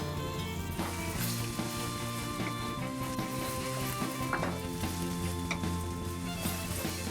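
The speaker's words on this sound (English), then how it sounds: "Now I add some soy sauce and stir that all together." Soy sauce stirred into a hot pan of cooking food sizzles continuously at close range, with occasional soft scrapes of the spoon against the pan.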